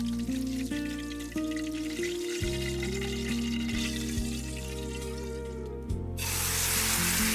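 Meat and mushrooms in sauce sizzle in a pan set directly on stone, a soft, steady frying hiss beneath sustained tonal music.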